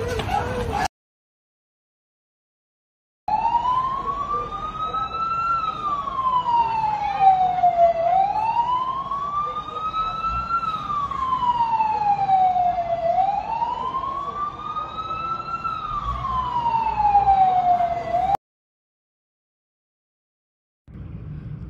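Wailing fire truck sirens at a large fire in Barangay Guadalupe Viejo, Makati City, sweeping up and down in long repeated cycles for about fifteen seconds, loud and steady over street noise, with brief quiet gaps before and after.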